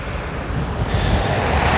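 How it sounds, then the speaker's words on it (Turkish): Wind in Murmansk at -25 degrees in the Arctic winter: a steady, loud, broadband roar of gusts buffeting the microphone, continuous with no pauses and no talking. "Çünkü şu an rüzgar esiyor."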